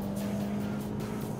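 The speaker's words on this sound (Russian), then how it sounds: "режим спорт, выключаем кондиционер. Старт. Ну, неплохой такой рывок." A Kia Ceed in sport mode accelerates hard from a standstill, its engine droning steadily and strongly up close through a short burst without talk.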